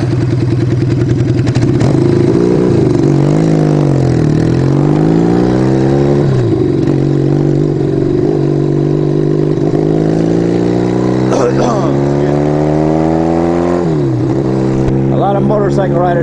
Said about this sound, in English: A lot of motorcycle riders out today.